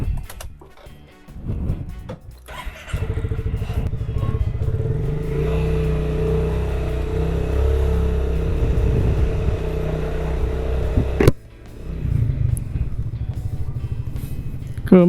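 A Honda Forza 350 scooter fitted with a steering damper, its engine droning steadily and loud from close by for most of the stretch, dropping briefly then picking up again.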